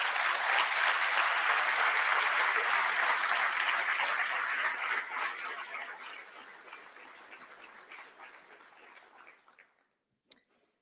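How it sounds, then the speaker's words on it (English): Audience at a school district address breaks into sustained applause, loud and dense at first, then gradually thinning and fading over several seconds before a single late clap. "if we could give you a round of applause for the work that you do on behalf"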